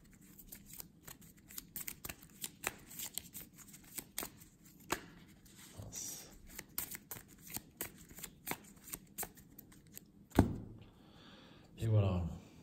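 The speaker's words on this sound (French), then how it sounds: "Et je remélange ça dans le deck." Playing cards are shuffled back into a deck during an Arkham Horror card game session, with repeated crisp riffling and flicking, a couple of louder knocks near the end, and soft handling noise between.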